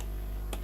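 Typing on a computer keyboard, heard as a couple of quick, close key clicks near the end over a low steady background hum, with no talking.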